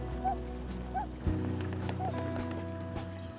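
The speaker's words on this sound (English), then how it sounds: "Our boat engine noise disturbs the parents" A boat engine on a river in the Lena River delta, Yakutia, holds a steady low droning hum throughout, with a few faint short calls rising above it.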